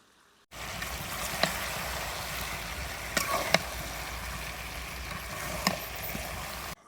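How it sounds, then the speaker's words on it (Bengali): Jujube pickle with sugar and mustard powder simmers in a cooking pan, giving a soft, steady bubbling sizzle broken by a few faint scrapes and clicks of a spoon as it is stirred. "এইবার এইভাবে নেড়ে চেড়ে কুলটাও পরিপূর্ণ সেদ্ধ হয়ে যাবে, চিনিটাও গলে যাবে"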